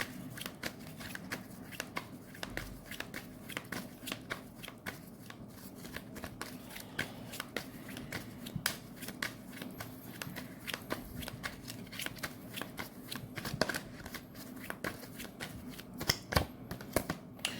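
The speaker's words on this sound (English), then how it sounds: "Give me one more card for the sign of Libra." Tarot cards shuffled continuously by hand, a steady stream of soft slapping and riffling clicks, close and quiet with no talk over it.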